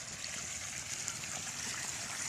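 Water pumped out through a pipe outdoors, making a steady, quiet rushing trickle with faint gurgles that carries on unbroken and alone.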